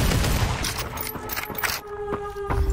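Sniper gunfire in the VR battle royale Population: One, heard as a few sharp shots spread across a couple of seconds, moderately loud over busy game ambience and tonal interface sounds.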